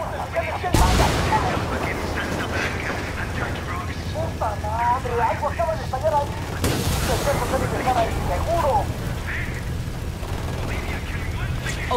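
Two heavy explosions in Ghost Recon Wildlands, each a sudden loud blast near the start and midway, followed by rumbling debris and scattered gunfire, with speech layered over the action.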